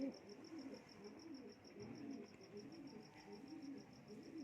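Purebred pigeons in a loft give soft, repeated cooing in a few rolling phrases. The sound is faint and quiet, with a thin steady high chirping behind it.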